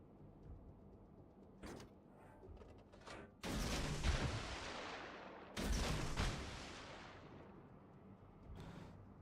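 Torpedoes launching in the Star Trek Legends game, two loud broadband whooshing blasts a couple of seconds apart, each decaying slowly, with fainter thuds and clicks before and after.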